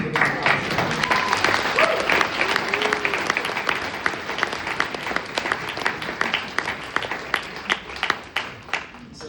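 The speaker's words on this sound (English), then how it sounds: "So let's give it a applause." A crowd at a graduation dinner applauds the graduating class, with sustained clapping that thins toward the end, heard at moderate distance with a few sharper individual claps standing out.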